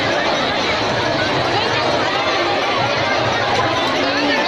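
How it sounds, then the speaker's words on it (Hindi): Dense, noisy crowd at the Bhagoriya tribal festival in Madhya Pradesh, a continuous roar of many voices and chatter filling the scene at steady, loud level throughout. "इतनी भीड़ है, इतना शोर है कि कुछ कहना बहुत मुश्किल है"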